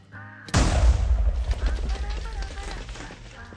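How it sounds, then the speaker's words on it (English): A loud explosion in Minecraft blasts open the Nether roof above a base, a sudden booming burst followed by a rumbling, crackling tail of debris that slowly fades over a few seconds. "Blowing another hole in the nether roof right over his base"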